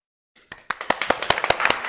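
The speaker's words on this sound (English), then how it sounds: "Round of applause." A small group breaks into a round of applause at the close of a tech podcast, starting with a few scattered claps and building into steady, close, crisp clapping from a handful of people.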